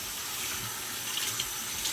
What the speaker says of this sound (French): je vais imbiber un gant de toilette d'eau chaude